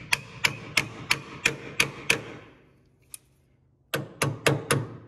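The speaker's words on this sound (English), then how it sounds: "Get my hammer" Hammer blows on front drum brake parts of a 1969 Buick Skylark during a brake rebuild: a steady run of seven sharp metallic strikes, a lone tap after a pause, then five more quick hits, close and loud with no talk.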